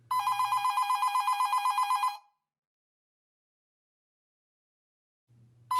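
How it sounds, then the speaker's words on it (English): A landline telephone bell rings in a rapid trill for about two seconds, then falls silent before the next ring begins, loud and close with a faint low hum beneath. "Sorry, it's my landline. I can't answer it, obviously."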